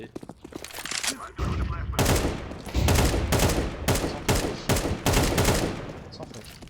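Counter-Strike 2 match on Mirage, rapid bursts of automatic gunfire in quick succession, loud and close, with a player's voice talking over the shooting.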